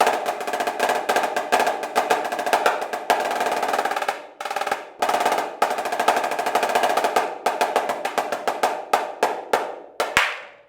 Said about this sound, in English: This is a 14-inch marching snare drum.